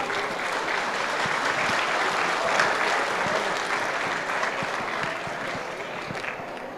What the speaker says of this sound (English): I guess let's give them a round of applause.